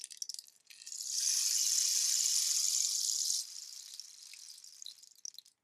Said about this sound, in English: This is the rain stick.